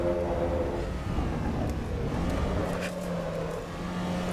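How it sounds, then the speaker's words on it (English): A race car in the Assetto Corsa EVO video game drones steadily under braking, with engine pitch shifting through a downshift made without rev matching, loud and continuous, no voices over it. "I didn't rev match on that downshift"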